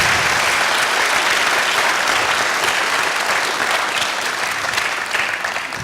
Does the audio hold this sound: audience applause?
yes